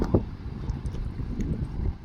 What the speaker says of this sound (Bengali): আজকে নদীতে অনেক বাতাস